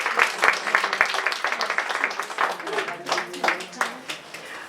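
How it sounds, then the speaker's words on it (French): Congregation applauding in church, a crowd of hands clapping steadily and fairly close, with voices and singing-like calls rising over the clapping throughout. "We're applauding our God of love."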